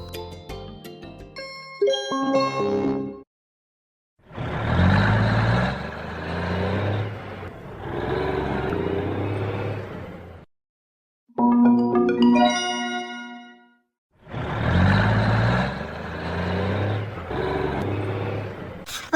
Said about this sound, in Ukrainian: Вантажівка.